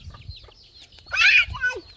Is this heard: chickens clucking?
yes